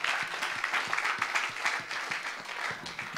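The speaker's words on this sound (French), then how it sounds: "Come on, clap your hands for Jesus." A congregation at a French-English church service claps hands together in steady, rhythmic applause, many palms striking close and loud throughout.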